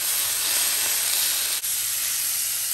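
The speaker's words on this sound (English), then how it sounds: "I'm gonna sear them on the side too." Pork chops searing in a hot pan give a steady, loud hiss and sizzle that holds nearly unbroken throughout, with one brief dip partway through.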